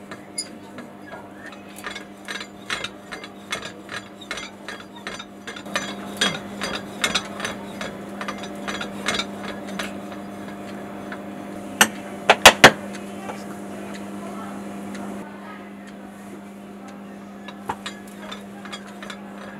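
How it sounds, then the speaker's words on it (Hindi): A sharpened needle tool cutting into metal gives a string of small, close metallic ticks and scrapes, irregular and light, with a few sharper clinks near the middle over a steady low hum. "ये सुई है, इसके ऊपर हमने धार अपने हिसाब से लगा रखी है जो मेटल को काट रही है"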